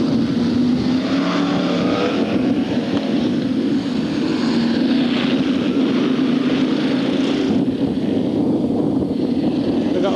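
Formula 1 stock cars racing at Hartlepool in 1995, a continuous engine roar from several cars that drones on without a break, loud and sustained under a commentator's voice.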